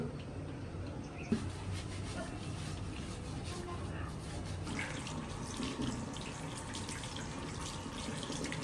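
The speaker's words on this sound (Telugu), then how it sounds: "ఫేస్ వాష్ అయితే చేసుకుంటున్నా ఇప్పుడు." Tap water runs steadily into a sink during a face wash, a continuous close hiss and splash lasting the whole stretch, with faint handling sounds mixed in.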